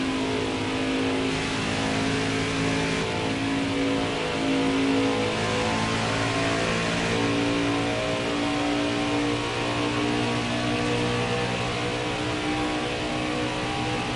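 Racing truck engines roar steadily at Michigan International Speedway during a Craftsman Truck Series race, a dense continuous drone of many engines with rising and falling pitch and no voices.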